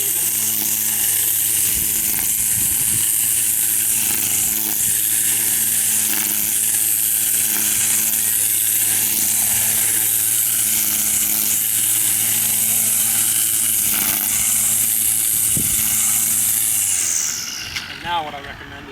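A string trimmer edging a lawn holds a steady, close high-pitched engine whine for most of the stretch, then winds down near the end.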